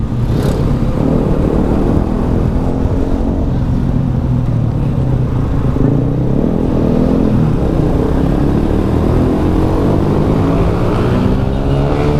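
A Suzuki Shogun SP motorcycle at full throttle on a touring ride, its engine droning loud and continuous with steady wind rush throughout, close to the microphone.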